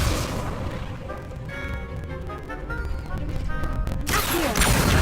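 An Incendio fire spell cast in a Harry Potter video game, with a rumbling whoosh of crashing magical impact giving way to a sudden bright, roaring burst of flame at the end.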